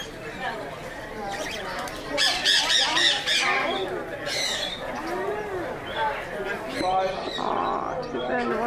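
Pet birds at a bird expo squawk and chatter in repeated harsh bursts, close by, amid a busy mix of crowd noise and overlapping voices.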